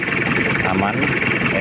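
Chevrolet K5 Blazer fitted with a Mitsubishi 4D56T turbo diesel engine idling, a steady close rumbling drone with a smooth even rhythm, and a voice talking over it.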